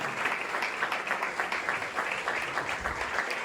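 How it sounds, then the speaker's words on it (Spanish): Congregation applause in a Spanish-language church service, offered in praise to the King: a continuous, dense roar of clapping from a crowd, moderately loud and unbroken for several seconds with no talking. "Vamos a darle fuerte ese aplauso al Rey."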